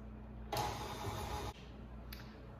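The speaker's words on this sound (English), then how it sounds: "now turn on the electric mixer until it is light and fluffy" An electric hand mixer whirs steadily for about a second as it creams butter for a peach almond cake, loud and close, then cuts off, followed by a brief faint blip.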